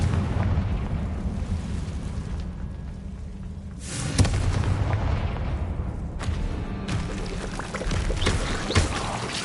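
Confringo spell blast in Hogwarts Legacy, a fiery explosive burst of deep booming rumble with crackling debris, loud and close, followed by further rumbling impacts and no talk.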